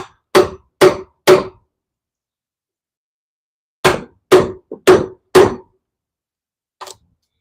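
Sharp strikes on the metal cap of a full-tang chisel during woodcarving: a quick run of three loud knocks, a pause, then four more, with a fainter single tap at the end. No talking.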